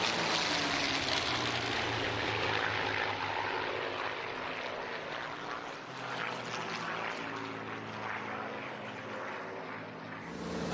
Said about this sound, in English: the aircraft were demonstrating actual World War II combat formations